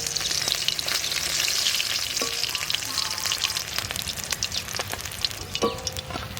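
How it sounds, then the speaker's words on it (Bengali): Bhetki fish pieces fry in oil in a pan, producing a dense, steady sizzle with occasional stirring and scraping clicks, close and without talking. "4 পিস করে ভাজা করলাম।"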